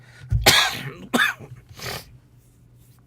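A person coughs a few times close by, with a harsh first burst followed by two lighter, throaty coughs and then quiet.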